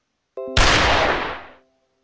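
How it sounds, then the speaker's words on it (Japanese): A single sharp gunshot in an online werewolf party game cracks loudly, then its rumbling blast decays over about a second, with a brief electronic tone just before it. "ハンターは発砲。"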